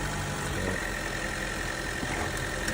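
A vehicle at a City of Norfolk auction idles with a steady low engine drone while it is moved forward and backward, heard close with no talking.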